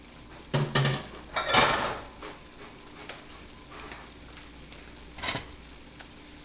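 Juice being drained from cooked meat in a pan for chimichangas, brief sizzles, clinks and scraping bursts of utensil against cookware, moderately close and otherwise quiet.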